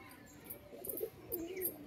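A Rampuri pigeon coos softly in a few short, low burbling phrases with faint higher chirps, fairly quiet and close, with no talk over it.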